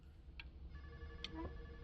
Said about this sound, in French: C'est ça le téléphone qui sonne